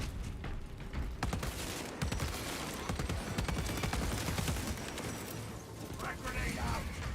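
A dense video-game gunfire volley rattles on continuously at close range, rapid overlapping shots forming a steady loud clatter while a voice talks over it.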